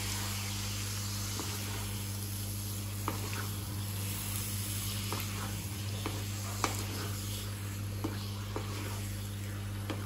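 Cleaned chicken liver sautés in an onion masala in a pan, a quiet steady sizzle with occasional soft scraping stirs and no voices.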